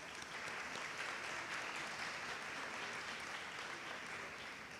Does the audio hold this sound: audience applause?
yes